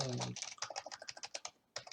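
Fast typing on a computer keyboard during a Python programming lesson, with rapid, uneven clicks close by and a brief voice at the very start.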